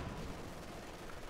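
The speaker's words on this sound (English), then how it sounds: "Using the field guns again to try and silence the MD-42." Distant artillery fire from field guns in Company of Heroes 2, a dense, rumbling barrage of low booms that continues steadily with no clear gaps.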